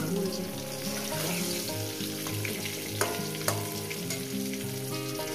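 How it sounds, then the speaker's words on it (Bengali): Pieces of pointed gourd and potato fry in a pan with a loud, continuous sizzle, and a couple of sharp clinks from a spatula against the metal cut through near the middle. "এখন আমি 5-6 মিনিট ভাজবো।"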